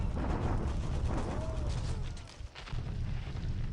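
Artillery fire in a strategy war game, a rumbling wash of booming blasts that merge into a continuous heavy roar, dipping briefly midway before resuming at moderate loudness.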